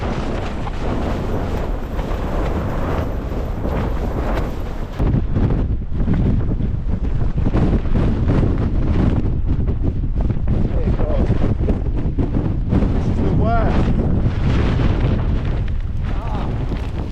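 Strong mountain wind buffets a Hilleberg Allak 2 tent during extreme-weather wild camping, a loud continuous roar with heavy gusts and flapping fabric that grow fiercer after the first few seconds.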